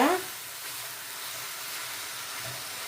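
Onions frying for Sri Lankan seeni sambal, a continuous broad hissing sizzle close by with a brief scrape of stirring at the start.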